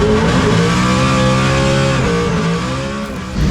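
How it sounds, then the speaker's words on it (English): A drift car's engine revs hard and loud, pitch rising and dipping as the throttle is worked, with a brief tire squeal near the end, at a Drift Masters competition in Spain. "Let's cut now to a shot of James throwing this car around Spain"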